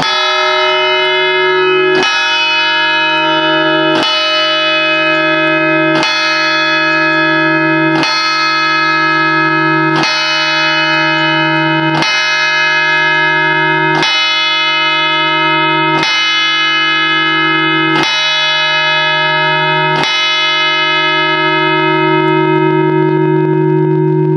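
A deep church tower bell strikes the repeat of the hour at an even pace, about every two seconds, each toll ringing on with a long resonant hum; no voices.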